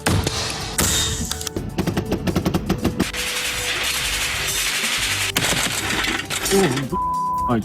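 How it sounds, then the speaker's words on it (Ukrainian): Loud, sharp bangs and rapid bursts of gunfire mixed with crashing impacts, a dense chaotic stretch of shots from start to finish. "Постріл!"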